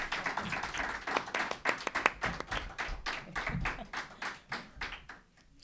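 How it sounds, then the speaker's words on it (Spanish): An audience applauds the women on a round-table panel about women in music, a close, moderately quiet patter of individual claps in a loose rhythm that thins out and tapers off toward the end. "Por favor, un fuerte aplauso para todas,"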